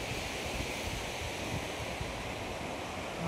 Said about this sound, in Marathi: असा समुद्र आहे।